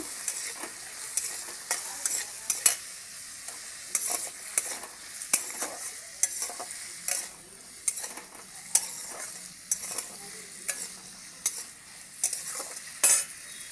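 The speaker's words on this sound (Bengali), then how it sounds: "এবার আলুগুলো দিয়ে দিলাম আলুগুলো দিয়ে একসাথে নাড়িয়ে নিয়ে ঢাকাটা দিয়ে দেবো" Potatoes fry in a pan with a bright, continuous sizzle while a utensil stirs them in frequent rhythmic scrapes and light taps, loud and close with no speech.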